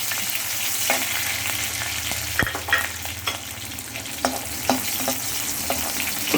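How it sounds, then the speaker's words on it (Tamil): Ginger, garlic and green chillies sauté in hot oil for chilli chicken, giving a steady close sizzle broken by scattered clicks of a spatula stirring against the pan, with no voices. "இஞ்சி இந்த பூண்டு பச்சை மிளகாய் இது எல்லாத்தையும் போட்டு நம்ம வதக்கிக்கலாம்"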